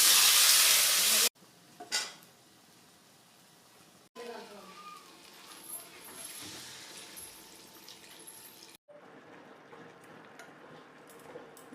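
Nigella seeds, fenugreek, brinjal and beans frying in a pan with lentil dumplings, a loud hissing sizzle at the start, then softer steady crackling and stirring scrapes that rise and fall, with occasional clinks.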